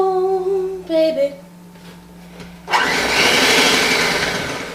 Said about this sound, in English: And don't turn your blender up so high.